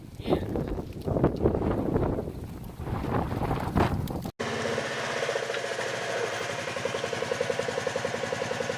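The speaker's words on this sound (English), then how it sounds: "it's kind of windy" Gusty wind buffets the microphone outdoors during a family deer hunt, a rough rumbling roar that swells and dips. It then cuts to a steady, rhythmically pulsing mechanical drone.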